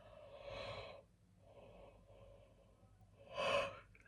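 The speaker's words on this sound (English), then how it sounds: "I can really feel the yawn needing to come through to release." A person yawning, a long breathy exhale followed by a quieter drawn-out breath, then a louder stretched yawn near the end, close and alone.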